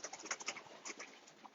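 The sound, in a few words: racing pigeons flying by and cooing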